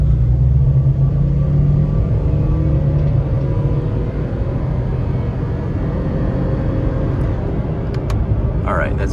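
A 2002 Honda Insight with a CVT accelerates at full throttle from a stop, giving a loud, steady low engine drone inside the cabin that holds its pitch with little rise, with no talk.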